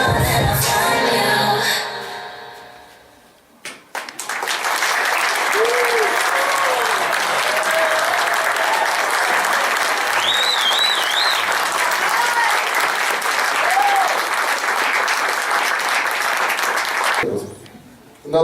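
Audience applause follows a song at a veterans' arts showcase, a dense sustained clapping that runs loud and steady for about thirteen seconds before dropping off, with a few brief whistles or cheers rising above it.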